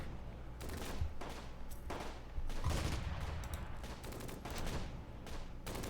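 Gunfire in the World War II tactics game Close Combat: Gateway to Caen, steady bursts of shots and rapid rifle and machine-gun fire crackling throughout, with heavier thumps layered in, no talking.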